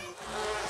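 Cartoon bees buzz in a steady, close insect drone that swells slightly louder partway through and carries on alone, with no other sound over it.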